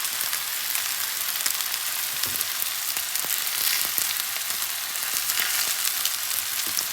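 Steady crackling sizzle of beef frying in a little oil in a pan, close up, with scattered pops and spits throughout and no talking.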